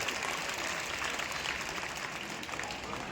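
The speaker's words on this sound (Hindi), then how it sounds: "और ताली जोरदार बजाइए" A college audience applauds at a function, a steady, dense wash of clapping with a noisy, hissy texture and no clear break for the whole stretch.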